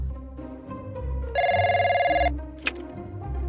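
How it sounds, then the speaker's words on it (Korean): A phone ringtone in the video game Trickcal Revive sounds as one steady, bright electronic ring, loud and clear over background music, followed by a short click. "클로에, 갑작스럽게 전화해서 미안"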